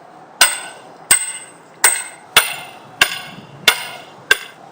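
An automatic hammer drives a pin during an installation: seven sharp, loud metallic blows in an even rhythm, each ringing briefly before the next strike.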